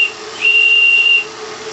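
Three JPB 1.4 cm3 oscillating model steam engines for a model battleship run together, giving a steady close hiss of escaping steam with a thin high whistle that swells for most of a second and then drops back.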